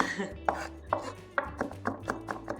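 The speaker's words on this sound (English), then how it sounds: "mince very fine, almost to the paste texture" A knife chops vegetables very finely on a board for a vegetarian Ukrainian piroshki filling, with about eight close, sharp strikes coming in a steady rhythm.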